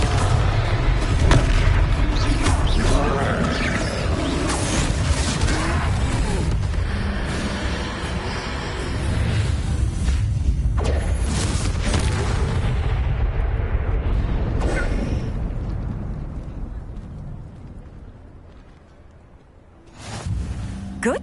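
Confringo spell blasts in Hogwarts Legacy during a fight with a troll, loud sustained booming explosions and rumbling battle noise filling most of the stretch before dying away, then a short final burst.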